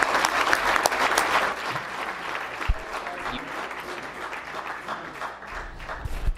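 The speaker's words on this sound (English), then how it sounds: "One more round of applause for our partners who were all here" A round of applause breaks out at a New York State Police press conference, steady dense clapping from a crowd that holds for several seconds with faint voices mixed underneath.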